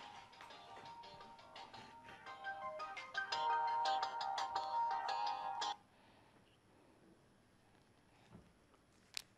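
A mobile phone ringtone plays loudly for about six seconds as a bright, repeating electronic melody, then cuts off, leaving a quiet room with faint movement.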